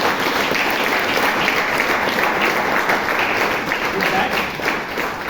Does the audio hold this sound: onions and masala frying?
no